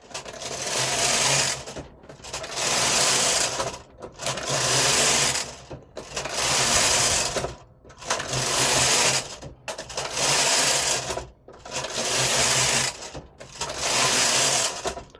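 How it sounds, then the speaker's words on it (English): A knitting machine carriage sweeps back and forth in steady passes of about two seconds each, with brief pauses between rows as the punch card advances, producing a loud mechanical whirring rattle with no talking. "you can then push this lever and it will move the punch card on once every row"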